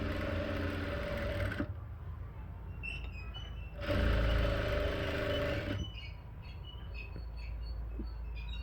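A sewing machine stitching piping onto cloth runs in steady whirring bursts, a loud stretch at the start and another in the middle, with quieter pauses between them.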